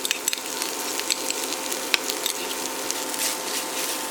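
A pan mixture for a tortilla, seasoned with plenty of pepper, is stirred and sizzles steadily, with tomato paste being added. Light utensil clicks and scrapes rise above a constant close frying hiss.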